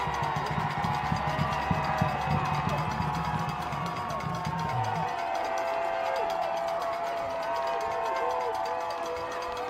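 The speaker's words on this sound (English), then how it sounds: "Crowd into it here at Memorial Stadium." Stadium crowd noise at a college football game at Memorial Stadium on third down, a steady broad roar with some whoops, with a commentator's voice running over it.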